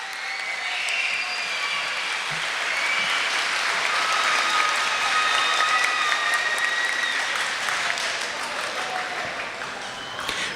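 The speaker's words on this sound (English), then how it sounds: "please give your families and the Broughal staff members a round of applause for all their support" Audience at a middle school eighth grade moving-up ceremony applauding families and staff, a dense, sustained wash of many hands clapping evenly for about ten seconds, with a few faint whistles and cheers mixed in.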